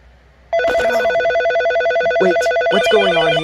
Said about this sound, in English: The phone ringing at this hour?